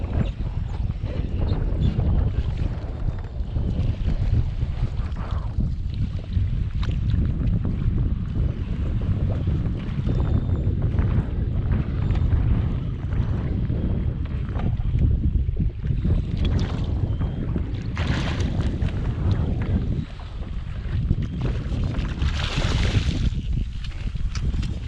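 A fishing boat trolls into the wind on a bay, with a steady engine drone, rushing wind noise buffeting the microphone and some water sounds, continuous and close, with no talk.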